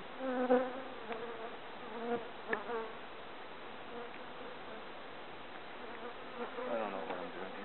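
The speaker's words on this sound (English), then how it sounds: "Lots of bees" Many bees buzz steadily around a hive, a dense droning hum with occasional louder passes near the microphone.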